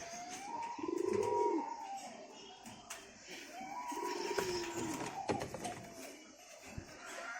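Pigeons in a home loft give a couple of long, rising-and-falling cooing calls, moderately close, with light shuffling and background noise between them.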